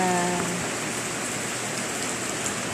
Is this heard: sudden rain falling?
yes